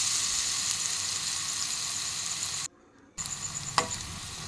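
Egg pitha batter fries in hot oil with a loud, steady hiss and crackle. It cuts out briefly, then comes back with a sharp clink near the end, and no one speaks.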